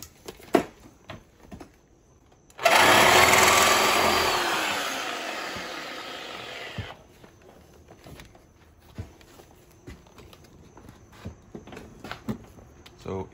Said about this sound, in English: then I'm just gonna cut it with the Sawzall real quick.